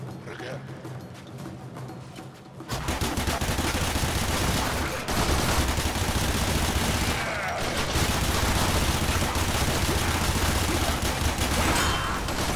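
Gunfire in the video game Warframe, heard as dense, continuous, loud bursts of rapid shots and booms that start abruptly after a quiet moment and keep going almost without a break.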